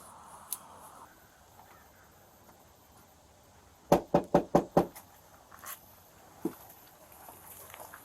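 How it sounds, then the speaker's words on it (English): Five firm, evenly spaced knocks on a front door, loud and close, followed by a couple of faint stray taps against a quiet outdoor background. "I have knocked twice on the front door and he does not answer."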